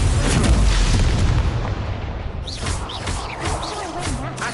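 Booming fire-spell blasts from the Incendio spell in Hogwarts Legacy rumble loudly over continuous game action, followed by lighter whooshing spell effects.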